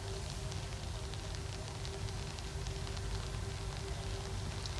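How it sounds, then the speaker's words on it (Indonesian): Rain falling outdoors in the Widya Chandra area, around an official residence, a soft, even hiss of drops that continues unbroken throughout with a faint steady hum beneath it. "Reza, hujan nih sepertinya di kawasan Widya Chandra ya Reza?"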